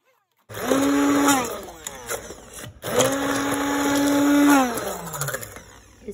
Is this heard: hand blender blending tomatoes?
yes